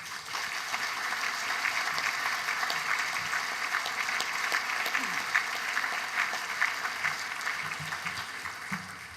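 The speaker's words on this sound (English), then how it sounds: "I would like you guys to join me as I applaud my father" Audience applause honoring a father at a youth of the year dinner, a steady dense wash of many hands clapping for the full length, fairly close and even in loudness.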